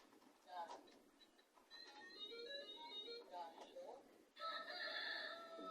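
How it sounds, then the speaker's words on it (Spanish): A toy music box plays a rooster's cock-a-doodle-doo, a tinny, electronic-sounding crow in several rising and falling notes, heard up close and fairly quiet, followed by a brief burst of bright tones from the same toy. "¿Cómo hace el gallo? Kikiriki."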